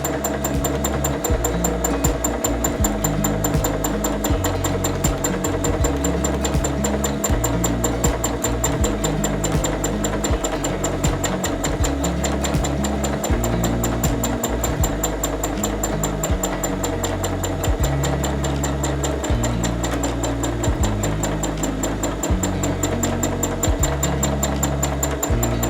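A sewing machine runs at speed for free motion quilting a heart meander pattern from a full line stencil, its needle chattering in a fast, even mechanical rhythm, loud and close, with no talking.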